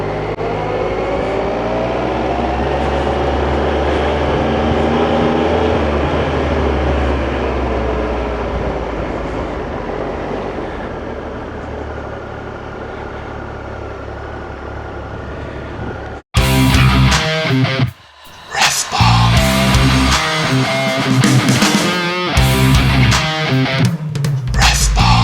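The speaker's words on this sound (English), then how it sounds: "Side stand up. In gear. Ready to roll." Motorcycle on a charity ride: a steady engine drone with a rising and falling pitch for about sixteen seconds, then an abrupt cut to louder, choppier wind-buffeted riding noise.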